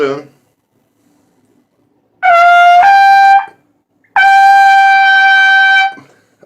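After a brief voice at the start, a trumpet blares two long, loud high notes, forced and strained from playing without a tongue arch, each held firmly with a pause between them.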